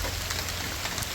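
Steady rain falls on surfaces at a rainy campsite in Rondeau Provincial Park, a continuous dense patter with scattered louder drops, close and even throughout, with no voices.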